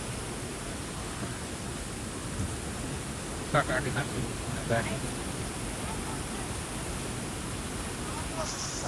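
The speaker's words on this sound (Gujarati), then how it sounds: "જો મિત્રો અમારા ગામનું પાણીનો ઓવરફ્લો કેવો થાય છે." Overflowing village floodwater after heavy rain rushes as a constant, hissing roar, with a couple of brief knocks partway through.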